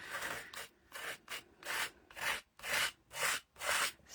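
A tool scrapes mixed media off a journal page in about eight steady, rhythmic raspy strokes, each a short burst of dry friction with brief pauses between, close and fairly quiet.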